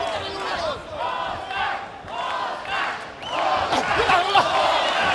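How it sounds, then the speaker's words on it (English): At a championship boxing match, a big arena crowd chants a fighter's name in rhythmic, swelling waves, loud and roaring, with a commentator talking over it. "the Oscar chant starts up again"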